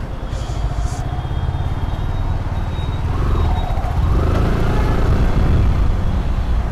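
A motorcycle rides along a road with a steady, loud engine drone and low rumble. The engine note rises slightly partway through, and no one speaks.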